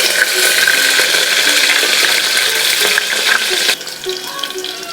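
Ginger garlic paste sizzles in hot oil for jeera rice, a loud, dense, steady frying hiss that eases slightly in volume toward the end.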